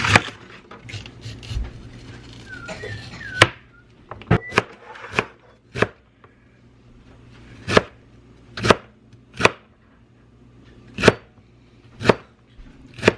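A knife chops vegetables for potato salad on a wooden cutting board, with sharp, distinct knocks at an uneven pace, a quick cluster early on and then spaced single strikes, close and clear.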